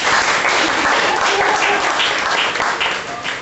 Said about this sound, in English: We give them a nice round of applause.